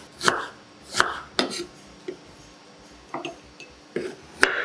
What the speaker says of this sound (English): Thinly slices half onion.